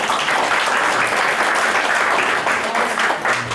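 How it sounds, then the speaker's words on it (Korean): Warm welcoming applause from a church congregation during a Sunday worship service, a steady dense wash of many hands clapping that fills the room with little change for a few seconds. "한 번 더 환영하는 박수 드리겠습니다"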